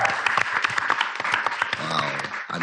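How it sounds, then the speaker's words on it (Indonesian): Audience applause in a televised Indonesian school film competition studio, dense close clapping mixed with cheering and voices from the crowd, loud and continuous throughout. "Boleh tepuk tangan sekali lagi."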